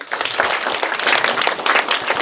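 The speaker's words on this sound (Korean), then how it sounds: "우리 큰 박수로 한번 시작할까요?" Audience applause at a Korean social studies textbook publication celebration, a steady burst of clapping from a seated crowd that fills the short moment without speech.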